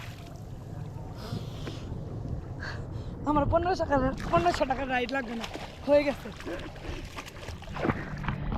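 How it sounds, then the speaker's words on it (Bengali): A jet ski out on the Bay of Bengal, about a kilometre from shore, gives a low steady engine and wind rumble that sits beneath loud, close talking for most of the stretch. "এই ওয়াটার বাইক দিয়ে আমি আসছিলাম এখন বঙ্গোপসাগরের মোটামুটি এক কিলোমিটার দূরে এসে হচ্ছে এখানে"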